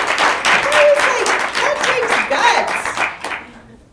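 An audience at a content strategy session applauds in a busy burst of many hands that rises, holds, then tapers off and fades to near silence.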